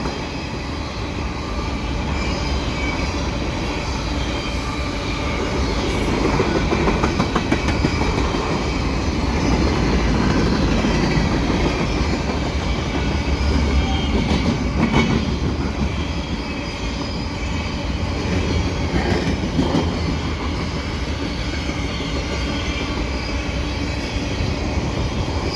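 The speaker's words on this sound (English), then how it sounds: "these potash trains can seem endless, actually." A long CN potash freight train of over 200 cars rolls steadily past, a continuous rumble of wheels and cars with faint rail clatter, sustained and unchanging for the whole stretch.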